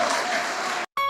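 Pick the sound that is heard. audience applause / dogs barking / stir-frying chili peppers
audience applause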